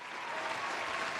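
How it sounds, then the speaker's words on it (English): A short burst of applause, an even, dense patter of many hands clapping for just over a second, fairly soft and with no voices over it. "So let's give a round of applause for that segment."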